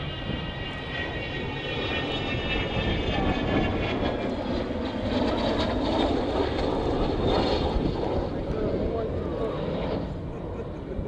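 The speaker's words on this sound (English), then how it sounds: "when they turn on the taps on those 4 big Olympus engines, I think you'll probably hear" Steady, powerful roar of four Rolls-Royce Olympus jet engines on an approaching aircraft at an air show, growing and hanging in the air with a whining high tone over the rumble, continuous for the whole stretch.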